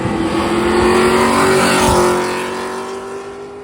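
A Pontiac and a Fox body Mustang drag racing side by side at a regional drag-and-drive event, engines roaring hard under acceleration as they pull away down the strip, loud at first and then slowly fading.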